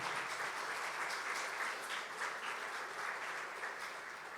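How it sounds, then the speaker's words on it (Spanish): Sustained applause from a church congregation during a worship service, a dense, even wash of clapping that holds steady at moderate loudness for the whole stretch. "dale ese fuerte aplauso a Dios"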